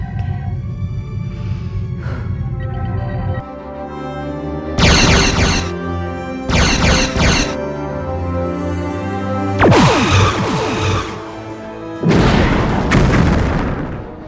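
Heavy booming torpedo explosions from a Star Trek space combat game, several loud bursts in sequence with gaps between them, following a lower rumbling drone at the start.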